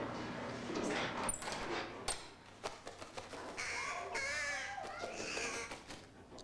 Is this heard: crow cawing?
yes